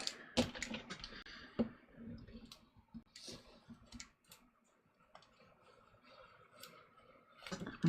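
Scissors clip through fabric to trim away a seam allowance during garment fitting: a series of sharp, close snips and clicks, irregularly spaced with quiet handling between them.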